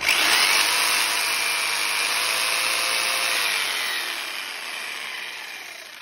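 A DeWalt 2641 electric jigsaw runs with no workpiece, a loud bright continuous whine that holds steady and then gradually fades lower over a few seconds.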